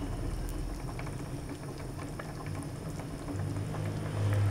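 Nilagang beef with cabbage simmering at a rolling boil in a pot, a steady bubbling and popping wash that grows slightly louder toward the end, heard alone without talk.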